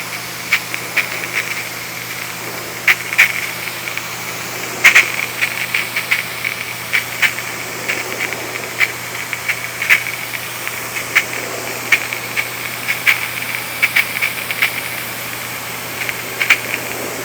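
A water hose sprays a steady, hissing rinse across a car body panel treated with ceramic spray sealant, with faint spattering ticks scattered over the constant wash of water.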